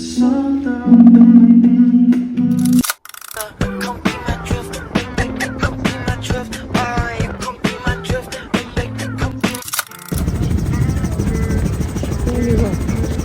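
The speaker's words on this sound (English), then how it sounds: "We're about to go on a helicopter ride" A steady mechanical drone hums under close, animated talking, then a broad whooshing helicopter rotor roar takes over near the end, in New York City.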